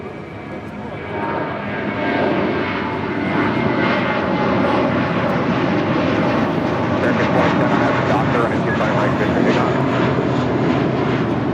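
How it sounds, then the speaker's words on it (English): A Spirit Airlines Airbus A320 arriving at LAX from Dallas-Fort Worth, its engine roar swelling and then holding steady and loud for several seconds, with faint voices in the background. "Spirit Airlines Flight 470 coming in from Dallas, Fort Worth,"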